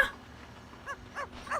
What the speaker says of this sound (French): Non, c'est un chien, pardon.